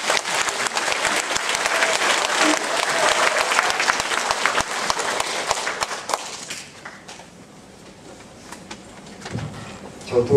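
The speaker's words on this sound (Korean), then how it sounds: "큰 박수." A congregation in a church applauds loudly at a Mass marking a priest's 40th ordination anniversary; the clapping fades after about six seconds into quiet room noise and faint voices.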